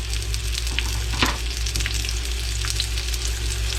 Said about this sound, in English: We're going to go ahead and fry up some green peppers